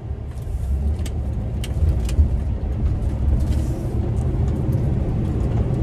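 Road noise inside an RV fitted with Koni FSD shocks at travel speed: a steady low rumble and drone of tires and engine with occasional faint rattles, no talking.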